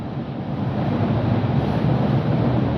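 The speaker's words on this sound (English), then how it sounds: "there goes a train." A train rumbles past beyond trees in Toronto, a steady low roar that swells slightly and holds loud throughout, with no talking.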